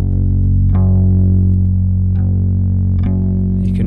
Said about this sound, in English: You can really hear the extra harmonics and distortion.